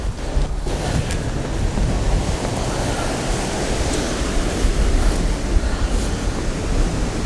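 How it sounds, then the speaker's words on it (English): Strong gusting wind buffets the microphone at a cliff edge in Orkney over a constant roar of waves breaking below, loud and unbroken throughout. "it's actually quite windy up here"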